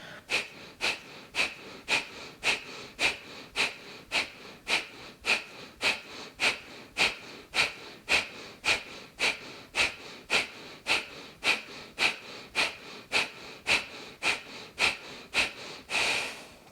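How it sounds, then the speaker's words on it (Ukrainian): Sharp, forceful exhalations through the nose in kapalabhati yoga breathing repeat at a brisk, even pace, roughly two per second, close and steady throughout. "Продовжимо дихати капалабхаті"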